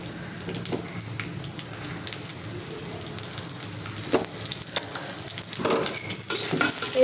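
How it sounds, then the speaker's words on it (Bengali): Leftover cooked rice frying in a wok makes a continuous soft sizzle with intermittent scraping and tapping of a spatula, fairly close and steady. "এখন আমি ভাতটা আগে ভেজে নেব"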